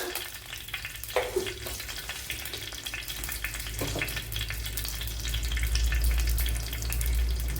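Fenugreek seeds sizzling in hot coconut oil in a pan, a steady close frying crackle with occasional stirring clinks, growing louder and fuller toward the end.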